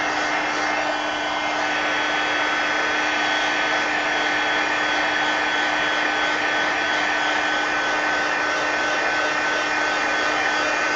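A hair dryer blows on a coloring page, a steady, loud, unbroken whir with a constant motor whine that holds evenly from start to finish.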